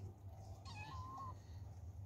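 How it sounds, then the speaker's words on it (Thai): A kitten gives a single faint, rising meow while three kittens eat at feeding time, heard alone over a steady low hum. "จะมาแง้วทำไมอ่ะ"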